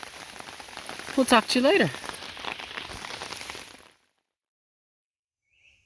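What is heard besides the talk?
rain falling on a tarp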